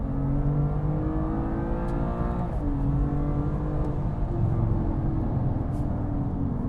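A BMW M2 Competition with a dual-clutch gearbox on Goodyear Eagle F1 SuperSport tyres laps Brands Hatch circuit, its engine holding a steady hum from inside the car with a brief dip and rise in revs partway through.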